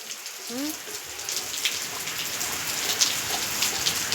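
Steady rain patters down outdoors while a small baby plays in water, a broad continuous hiss with a few brief voices and a short bit of laughter early on, close and moderately loud throughout.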